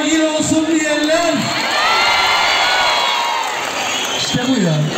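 Large outdoor crowd at a municipal youth concert cheers, whoops and shouts loudly and continuously, with an amplified voice speaking over the noise at the start and end.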